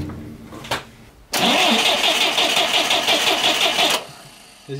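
A GAZ Volga M24 engine is cranked and fires up after a brief earlier attempt, then runs loud and close for several seconds before cutting out, with a faint restart at the end.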